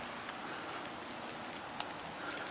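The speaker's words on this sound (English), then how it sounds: "And it's raining." Steady rain patters down at a roadside campsite along an old roadbed during a bike tour, a soft, even hiss with a few sharper drops close by and no talking.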